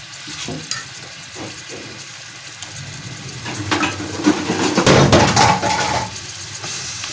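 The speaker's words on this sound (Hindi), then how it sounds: "उसी घी में मैंने ये प्याज डाले हैं।" Onions frying in ghee in a pan for a masala fish curry, a continuous sizzle with stirring scrapes and clanks of a utensil that swell louder midway, close up and with no talk.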